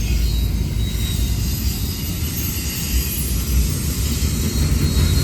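Norfolk Southern freight train rolling past close by, a loud, steady rumble and clatter of wheels and cars filling the whole stretch with no break.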